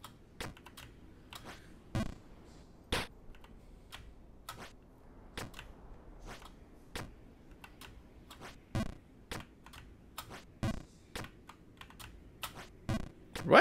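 Computer keyboard typing and key presses during a Jump King session, with a suspected worn-out keyboard: steady clicky keystrokes throughout, interspersed with louder, sharper key hits, close and without talk.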